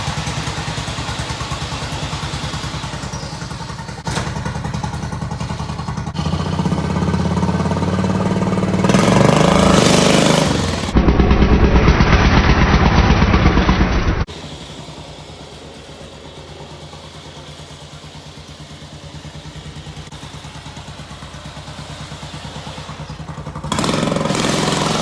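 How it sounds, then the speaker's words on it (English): An off-road lawn mower on cut turf tires runs outdoors, its small engine idling and then revving loudly as it drives, with rattling and clatter, before settling back to a lower rumble. "for off-road lawnmower, free modification on cutting turf tires, I think it should do pretty dang good."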